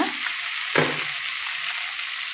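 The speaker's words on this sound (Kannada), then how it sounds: "ಇವಾಗ ಫ್ರೈ ಮಾಡ್ಕೊಳ್ಳೋಣ ಸೊಪ್ಪನ್ನ" Ganike greens fry in a pan with a continuous bright hiss, broken by one brief scraping stir as they are turned over.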